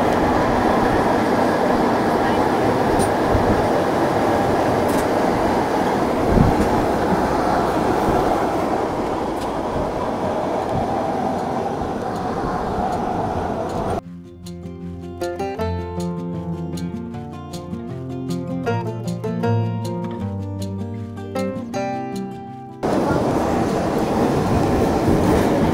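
A Bernina Line train rolls into St. Moritz station, its steady rumble and wheel noise filling the carriage, then a brief stretch of tonal squeal and ringing from the wheels and brakes before the rolling noise returns.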